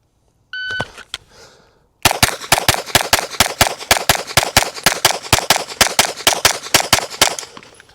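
Rapid gunfire at a shooting range: a long run of about twenty close, loud, evenly spaced shots follows a brief beep and a short pause.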